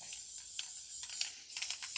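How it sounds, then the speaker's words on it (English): Disc brake quiet sprayed from an aerosol can onto the backing plates of front brake pads on a 2012 Ford Fusion 2.5, short close hissing bursts in quick succession, no talking. "I'm just going to spray down the backing of the pads with the disc brake quiet stuff"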